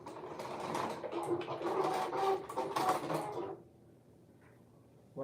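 A sewing machine runs a seam at 3/8 allowance, a fast whirring stitch rhythm for about three and a half seconds before stopping, followed by quiet and a brief clunk at the end.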